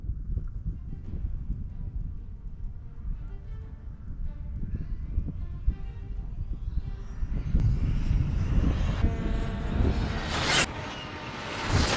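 A Traxxas TRX6 6x6 RC truck's electric motor driven flat out, a rising whine that climbs in pitch and grows louder toward the end over rough rolling noise, with no voices.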